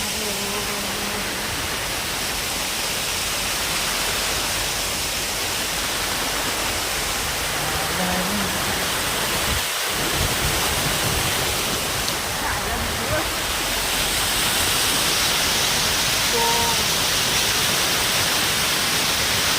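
The Surya River waterfall in Palghar roars up close, heard from directly beneath it, a steady, dense rush of falling water that holds its level throughout.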